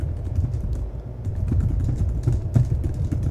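Keyboard typing during a SharePoint forms demonstration, soft irregular key clicks over a steady low room rumble, close and moderately loud, with no talking.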